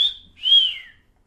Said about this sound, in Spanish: Este silbido lo utilizamos cuando alguien te parece guapo o guapa